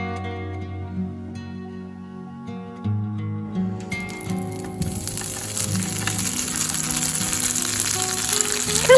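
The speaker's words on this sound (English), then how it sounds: "I'm adding some olive oil to the pan before I put the tofu on it" Tofu frying in olive oil in a pan: faint quiet hiss that grows after a few seconds into a steady, close crackling sizzle, rising in loudness toward the end, with a low hum underneath early on.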